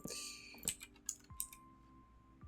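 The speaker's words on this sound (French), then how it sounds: "On va changer l'angle de mon clavier comme prévu." A computer keyboard being shifted and re-angled on a desk, a few sharp clacks and knocks over a quiet electronic hum, with brief background game tones.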